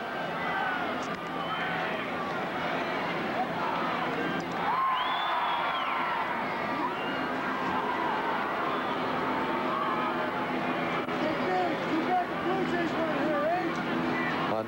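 A sellout baseball crowd in Toronto during a Yankees versus Blue Jays championship series game keeps up a broad, distant roar of cheering and murmur, swelling slightly around the middle.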